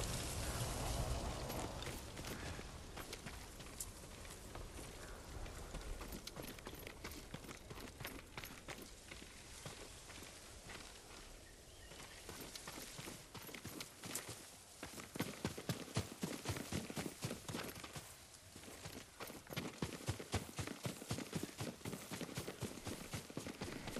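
Rapid clip-clop of a horse galloping in Ghost of Tsushima, hoofbeats pounding in quick rhythm for a long stretch, fading then returning strongly near the end.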